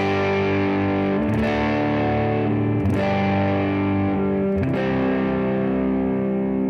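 Distorted electric guitar played through a bathtub-style amp model on an Axe FX, sustained heavy chords with three sharp strum changes, loud and alone.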